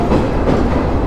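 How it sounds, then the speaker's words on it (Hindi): A local train passes close by a stopped Rajdhani express near Patel Nagar station on the Gurgaon line, giving a steady, loud rumble of wheels and rolling cars with no talk. "राजधानी रुकी हुई है और कोई लोकल ट्रेन इसको ओवर क्रॉस कर रही है।"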